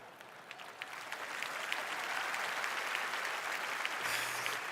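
Applause from an audience comes through fairly faint and distant, a steady rush of many hands that builds slightly and then holds evenly, with no voices.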